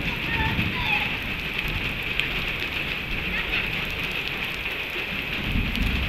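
Steady rain pours down outdoors while children play in it on bicycles, a dense even hiss of drops on surfaces throughout, with faint young voices mixed in.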